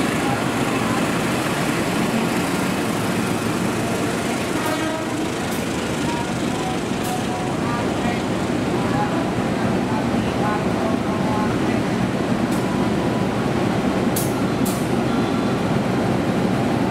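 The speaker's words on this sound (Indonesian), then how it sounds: "Jalur 3 melintas kereta api Argo Bromo Anggrek" The Argo Bromo Anggrek train passes through a station on track 3, a loud continuous rumbling roar of wheels and cars that holds steady throughout, with a few faint high squeals or clanks on top.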